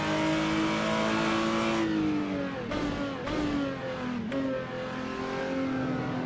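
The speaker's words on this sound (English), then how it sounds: "this car's a little bit loud though" Race car engine in the Assetto Corsa driving game revving hard through a sequential gearbox, loud and close, with rising and falling pitch and quick upshifts and downshifts breaking the steady roar.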